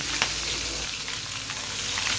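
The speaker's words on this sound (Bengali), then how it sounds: "মাছটা ভাজা হচ্ছে" A large rohu fish head fries in hot oil with a steady, close crackling sizzle and a few sharper pops, with no voices.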